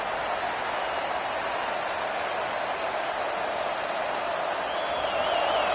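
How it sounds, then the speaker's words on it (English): A home football crowd roars steadily through a third-down defensive stand in a packed stadium at USC vs Iowa, a loud sustained wall of cheering that swells slightly toward the end, with no distinct voice standing out. "Decibels rising as the crowd gets behind this defense on third down"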